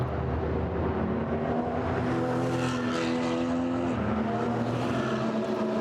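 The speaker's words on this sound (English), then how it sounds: "Sudden flurry of Porsche Caymans and Ginetta, a couple of Ginettas following out" Porsche Cayman and Ginetta GT4 race cars pull out of the pit lane during qualifying at Zolder, several engines droning and overlapping at moderate distance, fairly faint.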